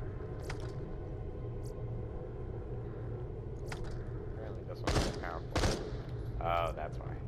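A burst-fire assault rifle in Borderlands The Pre-Sequel shoots a few quick bursts over a low game rumble and background sound, with mid-level loudness.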